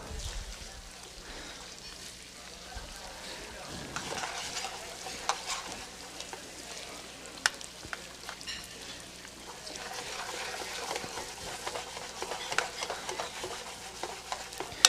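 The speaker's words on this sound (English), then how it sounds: "I kind of let the peppers fry up in the oil" Peppers and garlic fry in hot oil with a continuous crackling sizzle, while a utensil stirs the pan with scraping clatter throughout.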